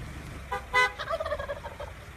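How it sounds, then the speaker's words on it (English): A wild turkey gobbles from the middle of a road in Washington County, a loud rapid burst of rattling gobble notes followed by a trailing warble, heard alone with faint low background rumble. "Meet Homer the turkey,"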